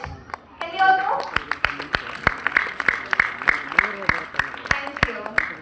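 A dance-event audience claps in a steady, rhythmic pattern, dozens of sharp close hand claps spaced evenly over several seconds, with voices heard in the background.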